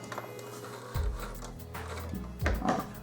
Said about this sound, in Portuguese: Costura até o final, finalizo com retrocesso, 3 pontinhos.